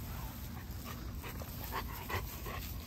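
A dog pants in quick, soft, rhythmic breaths close by after catching a live iguana from a mango tree, with faint whimpers over steady outdoor background noise.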